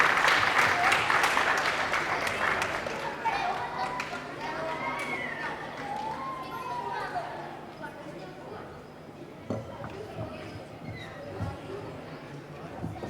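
Audience at an indoor stage event applauding a guest, loud clapping that starts strong and slowly fades over several seconds, with a speaker's voice over it and a few scattered claps near the end.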